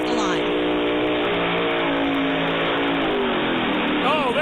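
Heavily modified pulling tractor engine throttled up hard as it leaves the line at a truck and tractor pull in Hamburg, NY: a loud, sustained roar with rising harmonic pitch, dense and continuous throughout, with crowd and announcer noise mixed in.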